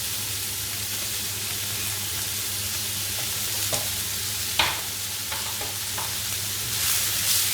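Chopped garlic and carrot sizzling in a hot pan for mamak-style fried cabbage, a constant close hiss with a few sharp clinks of a utensil stirring in the second half.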